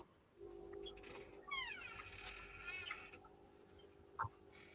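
A cat meows near a computer indoors, giving a quiet run of rising and falling meows followed by a short sharp chirp near the end.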